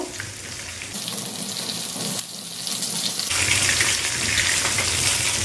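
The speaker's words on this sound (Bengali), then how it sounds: "এখন এমনি সব কটা আমি লাল লাল করে ভেজে নেবো" Stuffed brinjal pieces frying in oil make a close, continuous hissing sizzle that steadies and grows a little louder partway through, with no voices.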